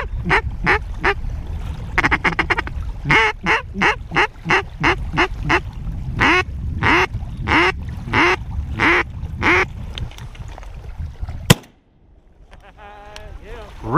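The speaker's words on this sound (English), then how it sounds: "Oh, it's a mallard." A lone mallard drake quacks in a rapid series of loud, close calls near water on a duck hunt, punctuated by a sharp bang near the end, followed by quieter sounds.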